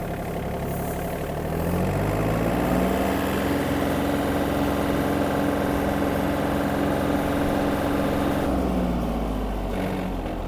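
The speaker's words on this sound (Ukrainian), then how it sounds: "Трактор дуже швидко набирає свою максимальну швидкість." A Yanmar FX-255 Japanese mini tractor engine runs steadily and close by, a continuous mid-low drone that rises slightly in pitch as it is revved, then settles, with no talking.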